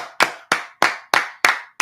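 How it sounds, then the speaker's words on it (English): Sharp, distinct claps sound at a steady rhythm, about six loud strikes spaced evenly apart in a room, each with a quick decay and no talking in between. "Clap it up, clap it up"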